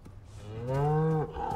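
A cow from the survival game Icarus lets out a single long, loud moo that swells and then cuts off, with low game ambience around it.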